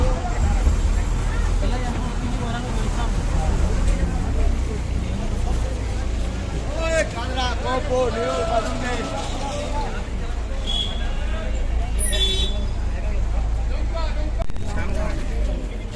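Buses stand along the platforms of the Suri bus stand, their engines rumbling low and steady beneath a busy crowd of voices and general station bustle, with a few higher squeaks and honks rising briefly above the din.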